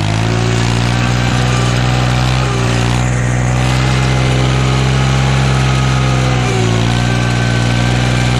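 A subcompact tractor engine runs steadily while plowing heavy snow with a homemade plow, a loud continuous drone with strong harmonics that dips briefly in pitch and load twice, with no talking.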